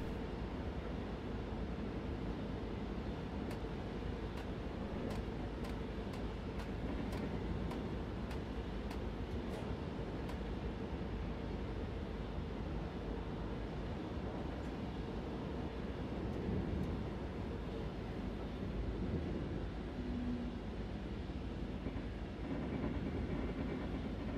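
A Baureihe 151 locomotive in Train Simulator hauls a Bundesbahn regional train toward Lüneburg. A steady, loud rolling rumble runs throughout, with a short series of regular rail clicks partway through.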